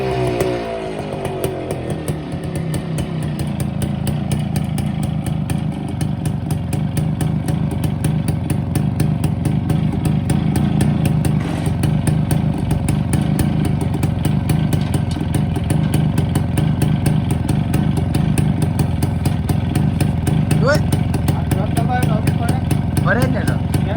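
A restored Suzuki Max R 100 motorcycle engine fired up and running, a steady close two-stroke-style idle clatter that continues throughout while people talk nearby.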